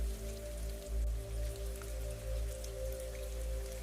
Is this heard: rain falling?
yes